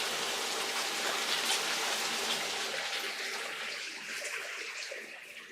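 Water rushing through a DIY recirculating gold high banker, a loud steady broadband gush and splash, continuous and close, easing slightly toward the end.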